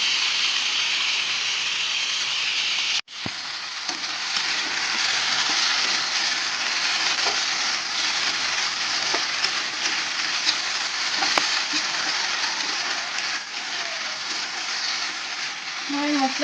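Spice paste with vegetables frying in a pan gives a continuous close hiss and sizzle with a brief sharp knock early on and a few faint clinks, while a voice talks quietly underneath.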